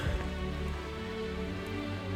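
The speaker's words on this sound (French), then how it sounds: "Et encore la pluie, la pluie, la pluie." Steady rain falling during a hike on the GR30 Tour des Volcans d'Auvergne, a dense continuous hiss of drops close around, even and unbroken, with no voices.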